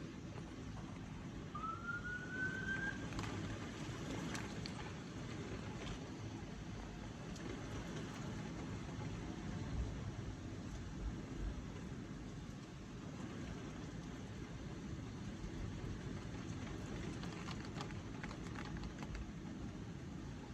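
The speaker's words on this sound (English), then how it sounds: "That is some super heavy rain." Super heavy rain during a thunderstorm in Dayton in August, heard from inside a vehicle: a dense, steady roar that holds for the whole stretch, with a brief rising tone early on.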